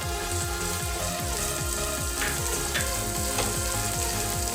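One medium onion sizzles steadily in about a teaspoon of hot oil in a pan, with a regular scrape of stirring roughly every third of a second throughout.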